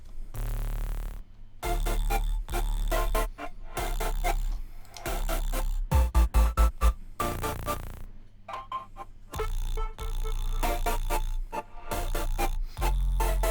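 Electronic music plays in choppy, punchy bursts with deep bass and synth chords, separated by short gaps, with no drum beat.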